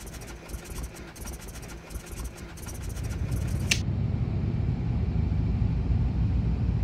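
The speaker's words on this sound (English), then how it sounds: "we're going to rock the starter to the right, wait for the engine to engage, and go full rich." Piston aircraft engine on preflight start-up: a quiet, slightly buzzy lead-in and a sharp click, then a low rumbling engine catches and settles into a steady, loud running drone.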